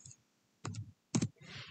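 Computer keyboard keys tapped in two short bursts separated by pauses while text is entered into a Glowforge design program, the clicks close and fairly quiet with no talking.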